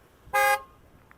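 A car horn gives one short, loud toot at a downtown Regina intersection in winter, heard from the sidewalk with faint street ambience around it.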